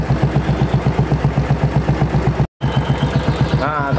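A Royal Enfield 500 EFI motorcycle engine idles close by, thumping in an even, rapid rhythm throughout, broken by one very brief dropout, with a short voice heard near the end.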